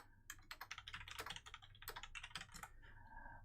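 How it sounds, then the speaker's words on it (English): Fingers type rapidly on a computer keyboard, a close flurry of crisp clicking keystrokes in uneven bursts, pausing near the end, with no talking. "I'm just typing list of Silent Hill games."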